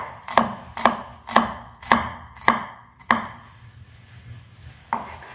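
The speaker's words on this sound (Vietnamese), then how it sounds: "Hành thơm các bạn thái ra cho mình nhé" A knife chops shallots on a cutting board while a dish of braised carp with pickled mustard greens is being prepared, giving six sharp, evenly spaced close-up strokes followed by a pause and one final cut.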